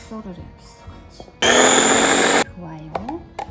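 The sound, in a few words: blender mixing tteokbokki sauce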